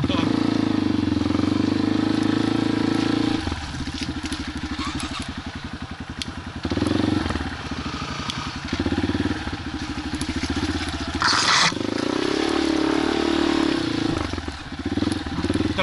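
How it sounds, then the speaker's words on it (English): A tractor engine rumbles on a muddy outing, a steady low drone that shifts in pitch and loudness as it drives past, with people talking and shouting nearby. "The tractor!"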